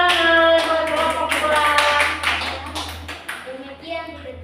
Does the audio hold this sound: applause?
yes